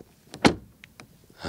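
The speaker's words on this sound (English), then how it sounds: "Door closing sound." Audi Q3 Sportback S-line car door shutting once with a single solid thud, close and fairly loud, followed by faint clicks and rustle, with no talk.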